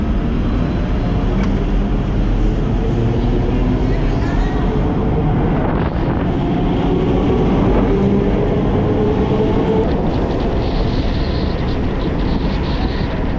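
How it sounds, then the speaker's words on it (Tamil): A suburban train pulls away from Kotturpuram station in Chennai, giving a continuous, loud rumble of wheels and carriages with wind noise, heard from on board throughout. "இப்போ இந்த கோட்டூர்புரத்துல இருந்தும் ட்ரெயின் ஸ்டார்ட் ஆயிடுச்சுங்க."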